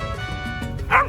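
A dog on a street in Hanoi gives a short, sharp yip over a busy background of people talking.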